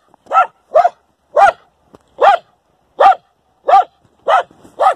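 A dog at winter combat training barks in single loud, sharp barks roughly every half second to second, eight in a row, close and alone against silence.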